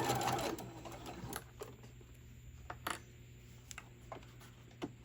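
A sewing machine stitches fabric for a lined tote bag, giving a quiet mechanical whir with intermittent sharp clicks and taps close by and no talking.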